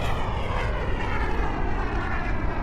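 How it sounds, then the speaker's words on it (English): Aircraft engine roar from an air show, a steady loud drone with low rumble sustained throughout as a jet passes overhead, no talk. "I hear a jet!"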